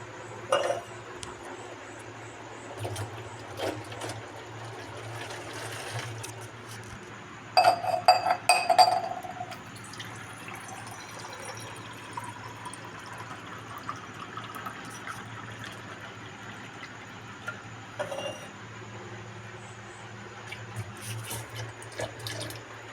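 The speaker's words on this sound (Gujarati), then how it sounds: "અહીંયા ભરાતો તો પાણીનો શીશો ભરવાનો છે 2 લીટર." Water runs from a tap into a 2-litre bottle with a quiet trickle, broken by a louder burst of glassy clinks near the middle and scattered light knocks.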